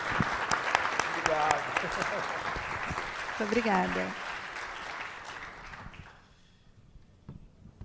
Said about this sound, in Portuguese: Vou pedir palmas para ele